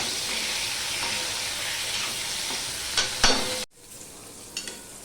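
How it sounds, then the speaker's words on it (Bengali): Eggplant pieces frying in hot oil with a dense continuous sizzle and a few utensil knocks, then the sizzle abruptly drops to a faint hiss. "দেখো বেগুনগুলো ভাজা হয়ে গেছে"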